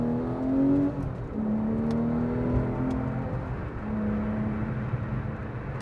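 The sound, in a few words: Porsche 911 engine accelerating while driving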